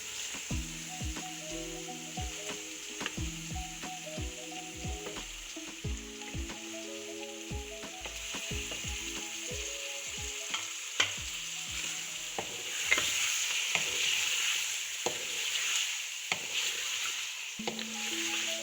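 Chicken frying in a pot, with a continuous sizzle and frequent clattering stirs and scrapes of a utensil at an irregular rhythm.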